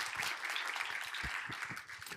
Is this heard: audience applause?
yes